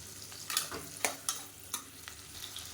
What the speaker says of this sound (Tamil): இப்போ சின்ன வெங்காயம் லேசாக வதங்கிடுச்சு